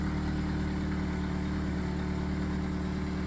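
A 2011 Chevrolet Malibu with a service ESC fault and loss of power idles steadily up close, a low, even engine hum holding constant with no voices.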